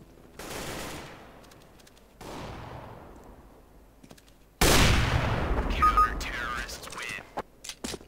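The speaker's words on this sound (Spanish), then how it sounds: "Disparale a través del humo." Gunfire in the Overwatch video game: a few sharp shots with decaying tails, then a louder burst of firing and clatter, with faint voices underneath.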